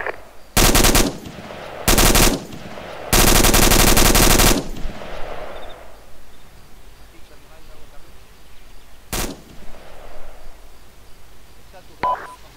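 Automatic gunfire from the Arma 2 military video game comes in three loud bursts, the third the longest, followed by a single sharp shot and a faint later pop, with quiet background between them.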